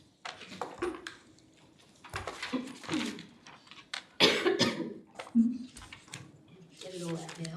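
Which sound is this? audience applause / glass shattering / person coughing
person coughing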